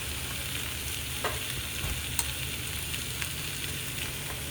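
Samosa chaat filling fries on high heat in a pan with a loud, even, continuous sizzle and crackle, broken by a few faint stirring taps, and nobody talks.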